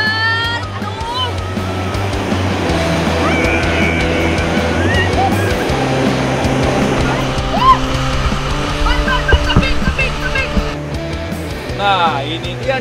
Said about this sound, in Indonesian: makin ke bawah, arus sungai juga terasa semakin kencang, Tradikar.